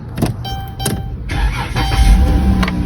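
Van engine cranking and catching after a battery replacement, a short burst of starter whir followed by the motor settling into a loud, steady idle close by.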